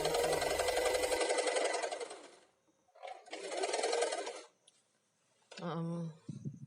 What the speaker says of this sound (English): So this is the center back seam that I'm sewing right here.